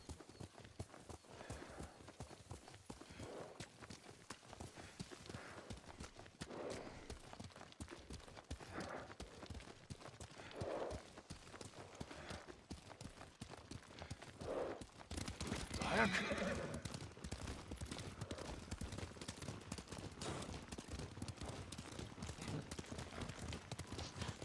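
Horses trot and neigh in the video game Ghost of Tsushima, with steady clip-clop hoofbeats and several whinnies over an outdoor ambience, the hooves loudest near the middle.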